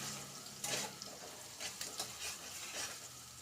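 Garlic cooks in a pan, a soft, low sizzle running throughout with a few brief stirring scrapes and bursts of crackle, fairly quiet and close.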